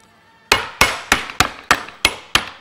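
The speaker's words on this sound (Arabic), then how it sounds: "أجيب الشاكوش بتاعي" A meat hammer pounds a halved chicken breast flat, seven sharp, evenly spaced strikes ringing out loud and close after a brief quiet start.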